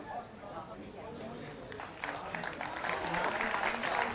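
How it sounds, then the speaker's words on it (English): Football crowd at a non-league match between Carshalton Athletic and Margate applauding as a player walks off, a broad wash of clapping and crowd noise that swells louder in the second half. "Round of applause for Sterling Parker as he goes off."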